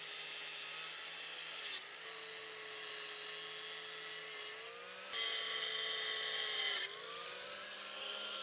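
A power tool whines steadily as it cuts a divot out of a metal goat fence panel, a high continuous grinding tone that dips briefly twice between passes, close by with no talking.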